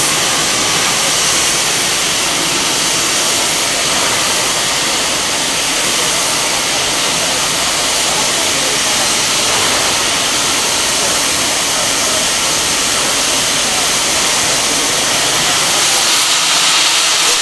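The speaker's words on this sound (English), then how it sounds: "The two locomotives now depart Sydney Central Station have been making their way to Thirlmere." Steam locomotives 2705 and 3642 departing Sydney Central Station, a loud continuous roar of hissing steam that holds steady throughout, with faint rail and train noise underneath.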